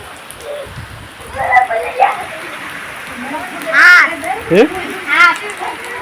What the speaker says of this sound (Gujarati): વરસાદ અમારે વરસાદ ચાલુ થઈ ગયો મેરા ગામમાં